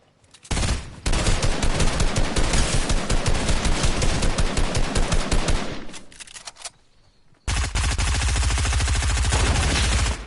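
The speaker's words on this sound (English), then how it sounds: "Somebody's trying to shoot you." Sustained automatic gunfire in Fortnite, loud and continuous with fast repeated shots, fading briefly before a second intense burst resumes.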